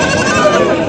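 Goats bleat at a busy village livestock market in Bangladesh, a loud, close, wavering cry lasting under a second amid crowd noise.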